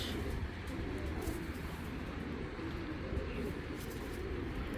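Belgian and Dutch racing pigeons of 2025 stock coo softly within a steady, noisy background, their low calls blending into the constant hum.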